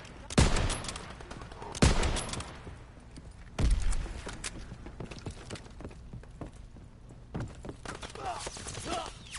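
Grease gun submachine-gun fire in a shooter video game: several loud, sharp bursts of gunshots, with quieter shots and game noise between them.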